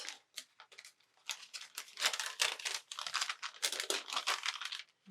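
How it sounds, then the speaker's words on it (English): Excess laminate sheet being trimmed from a laminated pocket, giving close, crisp crinkling and snipping bursts in quick irregular runs with brief pauses. "And then we'll trim off the excess."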